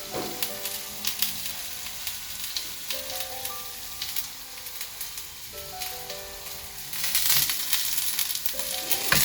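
Fish pieces sizzling steadily in hot oil in a home kitchen, a continuous close crackle with brief louder bursts toward the end, and faint tonal sounds running underneath.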